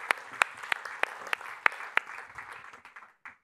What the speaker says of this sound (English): Round of applause for the first panel.